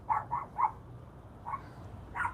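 Several sharp dog barks come in a quick cluster of three, then a pause, then two more single barks, fairly close in an indoor room with a low background hum.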